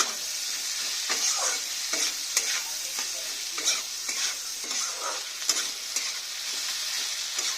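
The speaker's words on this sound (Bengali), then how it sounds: "ভালো করে নেড়ে দেব।" Onions and mutton frying in a pan while being stirred, with a steady close sizzle and the repeated scrape of a spoon through the pan in an irregular rhythm.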